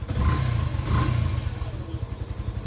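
A Yamaha FZ-S V3 motorcycle engine running near, a loud throbbing idle with a brief rise in revs before it settles into a steady pulsing putter.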